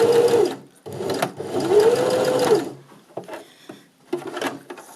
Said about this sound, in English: come and sew your second part of the corner, crossing over, so you're creating a cross